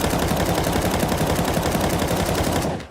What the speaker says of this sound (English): when we shoot now